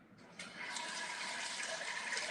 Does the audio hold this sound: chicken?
no